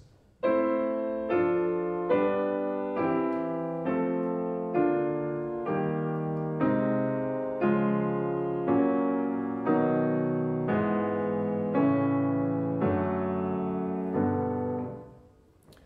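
A slow sequence of sustained chords played one after another, each struck and held, the harmony gradually sinking flatward before fading out.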